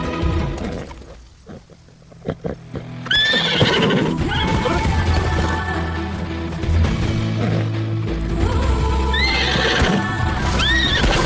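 Horses in a Hindi film scene, loud and close, with repeated high whinnies and neighs over steady clip-clopping hooves and rumbling movement throughout.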